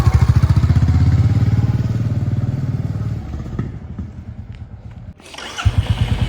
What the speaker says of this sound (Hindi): बाइक अपने आप चलनी स्टार्ट हो गई है